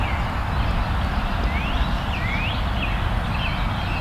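Distant wild turkeys gobble a few times over steady outdoor background noise, the calls faint and far off, during spring turkey hunting season in Pennsylvania.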